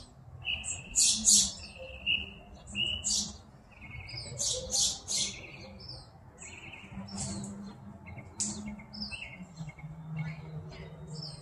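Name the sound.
birds singing at sunrise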